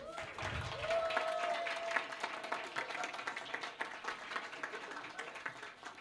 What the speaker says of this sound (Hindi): फिर से और एक बार तालियां!